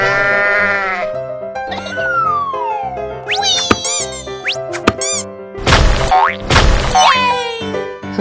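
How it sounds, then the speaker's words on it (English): Cartoonish synthesized sheep bleats with bouncy boing effects and bright chimes over a looping game-style backdrop, loud and continuous. "Sheep."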